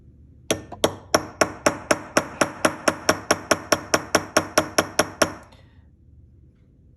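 Light hammer taps on a harmonica reed during reed replacement, about eighteen crisp, evenly spaced strikes in a quick steady rhythm, close and clear, then silence.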